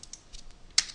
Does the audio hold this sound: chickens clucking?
no